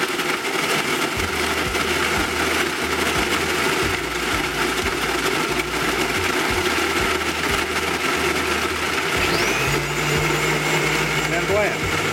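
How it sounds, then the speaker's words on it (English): A blender shaves and crushes ice for a margarita, a loud, continuous whirring grind that holds steady for about twelve seconds with a slight pitch change near the end. "So what I'm gonna do is shave and blend."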